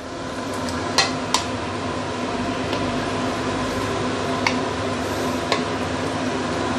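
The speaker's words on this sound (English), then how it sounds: "The broth is now boiling. We can actually put in our noodles." Noodles going into boiling broth in a pot for wet chow mein, a close bubbling simmer with a few sharp clinks and taps of utensils against the pot scattered throughout, no talking.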